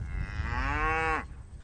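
A single cow moos on a farm in drought conditions, one loud, close, drawn-out call that rises and then falls off sharply, with faint background noise and no talking.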